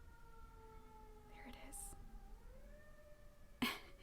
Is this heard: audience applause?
no